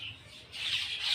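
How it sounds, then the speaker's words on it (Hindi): Birds chirp and squawk outside the door of a village house, with a steady, fairly close high-pitched twittering that swells toward the end, and no voices. "चिड़ियों की चहचहाट"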